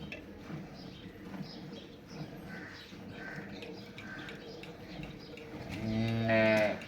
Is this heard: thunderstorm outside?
no